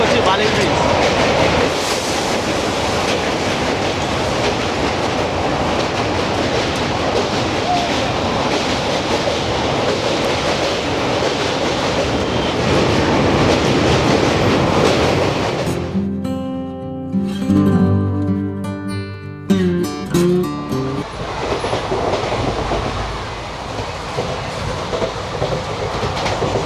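A train crossing Bally Bridge on a Kolkata to Meghalaya journey roars with loud, continuous rumbling and clattering, then shifts to a hollow, rhythmic metallic clanking on the span before the steady roar returns.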